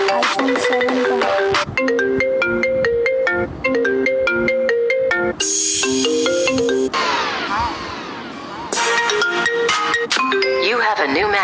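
An iPhone 7 ringtone plays loudly on a phone: a bright, repeating melodic marimba-like pattern of chiming notes, with a brief swooping section partway through before the melody resumes.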